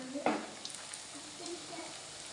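Boiled potato snacks fry in a pan with a soft, steady sizzle, while a clear stirring scrape or clatter comes early and a few light clinks follow.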